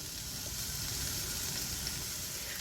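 Chopped onion sizzles in olive oil in a hot skillet, a steady, close, even crackle and hiss that holds throughout with no talking.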